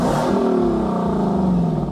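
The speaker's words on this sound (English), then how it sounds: "Underneath the hood is a 5-liter V8 pushing over 470 horsepower, with the best sounding exhaust that I've ever heard in my life" A Lexus LC 500's 5-liter V8, rated over 470 horsepower, revs loudly and close by, its exhaust a steady, full-bodied roar that climbs and holds through the short burst with no talk over it.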